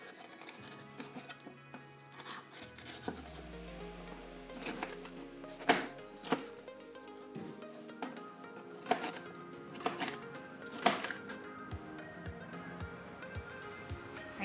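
Vegetables for a chickpea salad being chopped with a knife on a cutting board, giving a quiet, steady run of light, irregular taps and scrapes with no voices.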